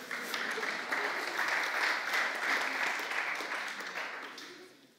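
An audience applauds at a re:publica 2013 conference talk, a dense, steady clapping that holds for several seconds before tapering away at the end.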